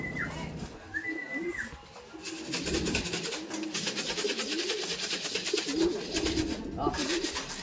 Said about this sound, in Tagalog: pababa na pala yung mga ibon natin